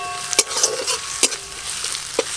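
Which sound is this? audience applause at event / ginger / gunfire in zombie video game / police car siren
ginger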